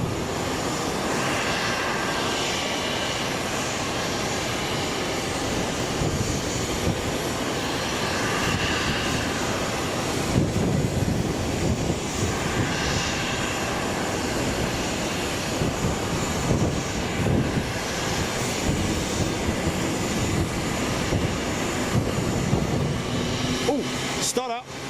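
A Boeing 767 jet arrives at Boeing Field with a loud, sustained engine roar that swells slightly midway and stays strong throughout, and people talk intermittently over it.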